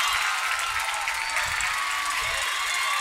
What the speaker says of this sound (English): the home crowd here at Shirley Field on their feet